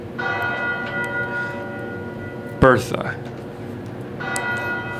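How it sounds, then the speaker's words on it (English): Bells ring out from a clock tower above a city courtyard, a sound effect in a Call of Cthulhu tabletop game. Steady layered tolling rings throughout, with a voice briefly speaking over the middle. "sound of bells ringing above your heads"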